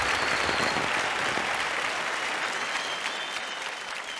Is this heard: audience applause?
yes